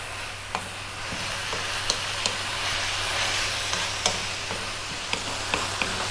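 Shrimps or prawns fry in a pan with a steady close sizzle, while a utensil stirs and taps the pan at irregular intervals.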